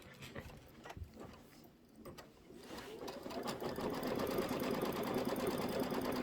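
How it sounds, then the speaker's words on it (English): An embroidery sewing machine stitches out a tack-down stitch on a quilted pumpkin pie block, starting faintly and building to a steady, rapid mechanical whirring and clatter close by. "And let's go ahead and stitch that out."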